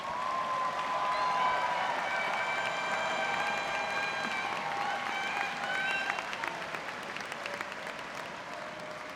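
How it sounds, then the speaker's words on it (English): A stadium crowd at a spring commencement ceremony applauds families and friends in the stands, a sustained distant wash of many hands clapping with faint cheers, while a sung or held tone rises briefly above it. "please look to the stands and applaud your families and your friends who are here with you today"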